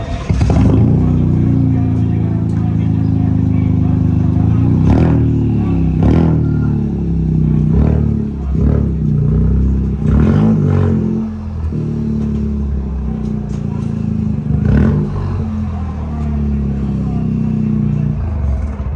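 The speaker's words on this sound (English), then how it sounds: "the result is one of the best-sounding exhausts out there" A 2024 Toyota GR Corolla GR Cup Edition exhaust revving hard, loud and close, with repeated sharp blips and throttle bursts over a rumbling idle.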